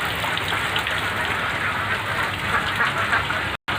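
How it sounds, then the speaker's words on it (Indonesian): Steady rain falls at a duck pen, a dense even hiss close by with occasional faint quacks in the mix. "Tadi panas tiba-tiba hujan"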